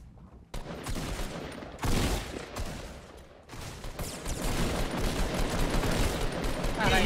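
Dense gunfire from the video game Fortnite crackles in rapid bursts, loud and near, with short pauses between volleys, while players talk excitedly over it.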